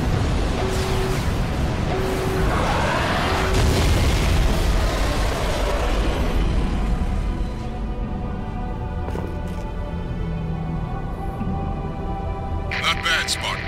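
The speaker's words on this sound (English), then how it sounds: "I saw that explosion from orbit." Explosion in a Halo 3 video game cutscene: a loud, dense blast rumble for the first several seconds, decaying into a lingering low roar with orchestral tones, a few sharp bursts late on.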